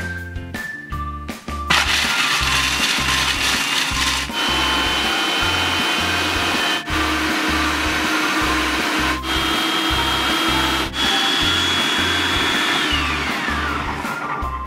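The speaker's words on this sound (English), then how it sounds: "And what I'm gonna do right now is create a nut butter in my food processor." A food processor grinding hazelnuts into nut butter gives a loud, continuous motor whir, starting with a short sputter and then settling into a steady churn with a rhythmic thumping underneath.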